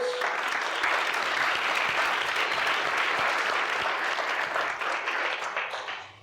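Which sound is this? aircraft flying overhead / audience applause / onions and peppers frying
audience applause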